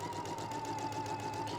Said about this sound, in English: So I'm going to go ahead and back stitch